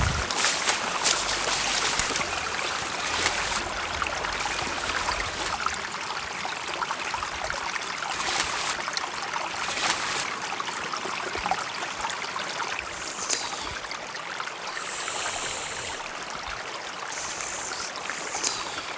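A steady rush of a flowing glacial river stream in Bhashu Valley near Skardu, close and continuous, with bright splashing and gurgling throughout.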